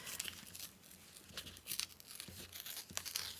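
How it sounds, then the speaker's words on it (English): Map-printed paper strip torn slowly by hand in a craft setting, giving a run of close, crinkly ripping bursts with short pauses between them, with no voices. "So I'm going to tear this down"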